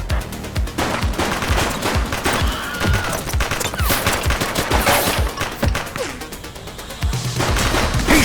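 Rapid bursts of gunfire from The Precinct crackle in dense, overlapping volleys, close and loud, with fusillade-like repeated shots and a few sharper cracks throughout, no talk over them.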